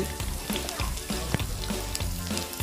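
Vegetables and moong dal fry in a pan with a steady, close sizzle, broken by short scraping stirs at an uneven rhythm.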